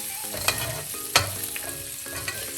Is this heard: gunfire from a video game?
no